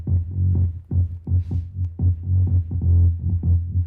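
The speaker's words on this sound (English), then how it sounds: "This bass groove comes in that is so fucking groovy." A groovy, slightly distorted bass line from an EDM track after the drop, pulsing in a steady rhythm with loud, round low notes and a brief bright sweep midway, alone without voices.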